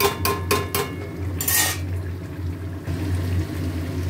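Mutton being stir-fried in a pan: a few sharp utensil clinks against the pan, a short burst of scraping, then a soft steady sizzle with a low hum beneath.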